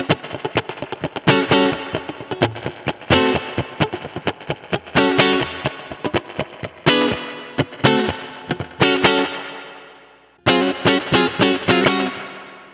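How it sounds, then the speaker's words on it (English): Electric guitar playing a busy rockabilly-style line through delay and spring reverb, with long echo trails and slight chorus-like modulation on the reverb tail; loud and continuous, with a brief drop-out near the end before playing resumes. "there's like a little modulation on the trail of that reverb"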